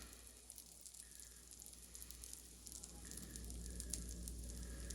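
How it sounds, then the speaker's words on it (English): Soft, steady sizzling crackles close by, like sourdough starter batter frying in a cast iron skillet preheated to 425 degrees, growing slightly louder toward the end. "you can hear it starting to sizzle up."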